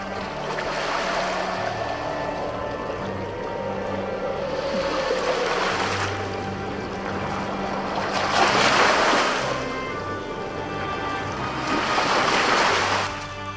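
Water sloshes and splashes against a moving boat under a steady hum, with louder surges of spray at intervals, and no one speaking, in the video game Nancy Drew: Sea of Darkness.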